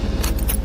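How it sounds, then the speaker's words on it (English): Keys jingle in short metallic bursts, close by, over a low steady rumble of a vehicle. "Keys jingling, deep exhale."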